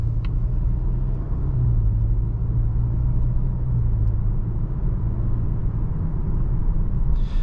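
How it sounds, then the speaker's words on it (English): A 2022 Volvo XC40 T5 R-Design cruises along a road, giving a steady low engine and tyre rumble with road noise that holds at an even, continuous level throughout, heard from inside the cabin with no talking. "just normal everyday driving, this is a great daily driver"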